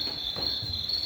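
Cricket chirping sound effect played through an instant audience box plugged into a guitar amp, a steady high trilling chirp that runs unbroken and fairly loud over a low background murmur.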